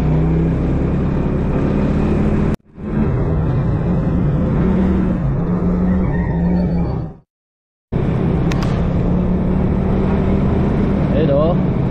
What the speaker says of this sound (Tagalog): Ayan, kasama natin yung tricycle na yan.